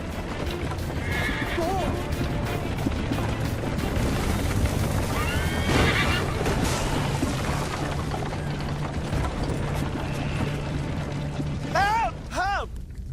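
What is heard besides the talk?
horse galloping and neighing in Assassin's Creed Liberation video game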